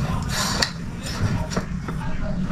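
Metal utensils clink against a container while sugar is mixed in, giving a few sharp taps and scrapes over a steady low background hum, close and moderately loud.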